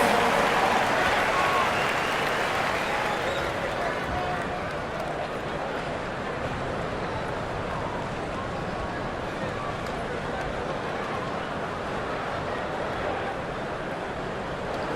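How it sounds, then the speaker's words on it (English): Fans in an NBA arena at a Pelicans versus Bulls game applaud in a broad, steady roar that eases slightly after a few seconds, with a commentator talking over the crowd noise. "One more big round of applause, fans."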